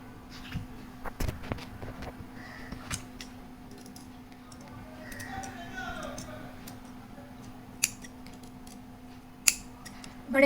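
Scissors snipping through fabric to cut out flower shapes for a shirt neckline, a few sharp close clicks and snips spaced irregularly over a steady low hum, with quiet background noise between cuts.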